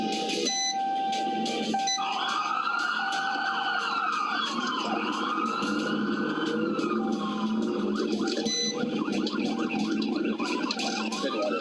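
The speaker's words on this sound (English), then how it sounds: "The trooper to activate his siren and initiate a pursuit." Police car siren wailing continuously through a pursuit of a fleeing truck near the I-630 westbound on-ramp, loud and sustained with rising and falling sweeps and rapid yelp cycles over road and engine noise.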